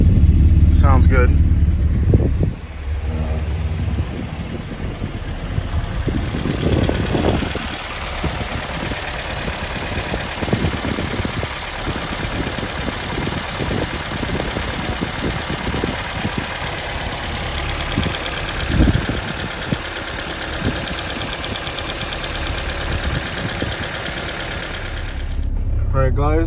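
A Honda Civic with a K24 engine idles steadily and close at mid loudness for about twenty-five seconds, a continuous rumble with a slight irregular pulsing texture throughout.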